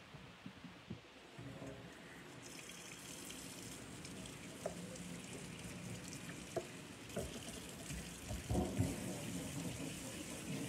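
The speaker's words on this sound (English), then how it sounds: "I'm just gonna run probably like a fourth of a sink full of water" Water runs steadily into a kitchen sink, a continuous close rushing hiss with a few small splashes and clatters, no talking.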